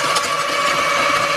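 A gas ice auger engine drilling deep through frozen lake ice at least three feet thick, a loud steady mid-pitched motor drone held close without pause.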